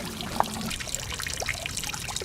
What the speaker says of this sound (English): turn off the fountain so that there's less disturbance of the water